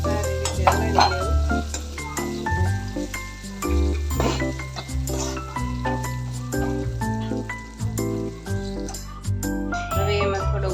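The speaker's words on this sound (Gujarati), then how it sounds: "સારી રીતે હલાવી લેવું।" Spiced batata poha with peanuts, coriander-cumin and red chilli stirred in a pan, with spoon scrapes and light clinks over faint sizzling, while background music plays throughout.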